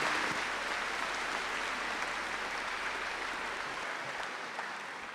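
Applause from a graduation ceremony audience, a dense steady wash of many hands clapping that holds throughout and fades slightly toward the end.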